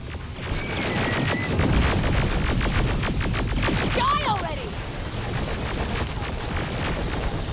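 Explosions in the video game Terminator: Resistance, heavy booming blasts under continuous loud rumbling and crackling, with a brief sweeping tone in the middle, all close and dense.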